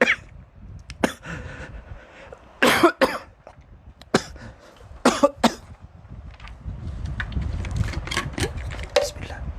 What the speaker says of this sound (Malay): Minta maaf, terbatuk. Tersedak.